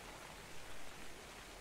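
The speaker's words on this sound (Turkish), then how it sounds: "Hadi yağmur da yağıyor. Yağmurda uçamazsın sen." Rain pours in the video game Ark Survival Evolved as a soft, uniform hiss that swells briefly in the middle of a short stretch with no speech.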